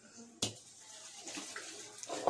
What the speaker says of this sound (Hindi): थोड़ा सा गर्म पानी ऐड कर रही हूँ